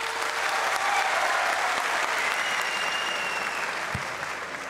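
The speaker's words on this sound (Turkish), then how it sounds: "Isınanlar alkışlasın." Sustained clapping from a studio audience at a Turkish talent show stand-up set, a dense wash of many hands holding steady before easing off slightly at the end.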